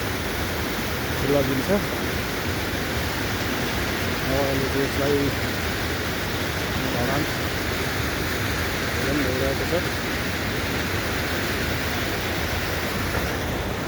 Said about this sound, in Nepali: यो पानी आउने खोला भइगयो